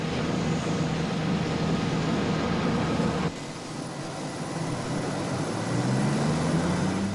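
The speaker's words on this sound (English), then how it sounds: "Aircraft move around the airport, preparing for takeoff or returning after landing on the runway, and that can be very noisy." Airport ground noise from aircraft taxiing around the field, a steady loud engine roar and rumble that dips briefly midway, then swells again with a rising whine.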